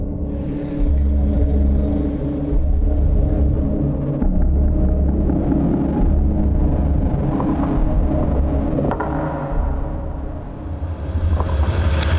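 A car engine runs with a heavy low rumble that swells and revs in waves, loud and close, with a brief dip midway and steady droning throughout.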